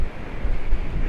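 Sea waves washing at a beach resort with strong wind buffeting the microphone, a low rumbling surge with gusty noise, brief and without voices.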